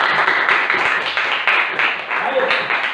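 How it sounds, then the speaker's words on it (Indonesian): A classroom of students clapping hands together at the end of a lesson, loud rapid continuous applause close by with slight surges in rhythm. "Tepuk tangan dulu untuk kita semua."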